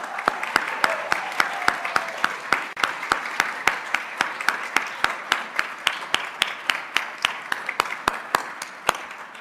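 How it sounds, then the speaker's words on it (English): Steady applause from a ceremony audience honoring university employees for 20 years of service, with sharp individual claps standing out in a fairly regular rhythm over a dense wash of clapping throughout. "Please stand as you are able and accept your applause for 20 years."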